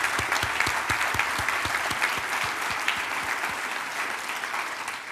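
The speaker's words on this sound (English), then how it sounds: "Can I please have a round of applause for the organizations on this list?" Audience applause at the LinkedIn Talent Connect Europe conference: a dense, steady round of clapping with a few distinct nearby claps standing out early on, then gradually thinning.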